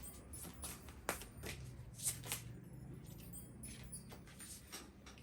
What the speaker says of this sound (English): Shuffle some oracle.